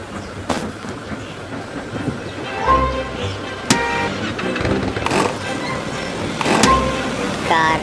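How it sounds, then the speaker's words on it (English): Toy train starting and running, a continuous mechanical whir and rumble with clicks, thumps and a few short squeaks or whistle-like tones, played fairly loud and close throughout. "Train start."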